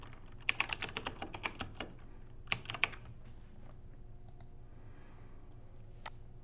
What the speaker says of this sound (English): type in the name. And then press Enter.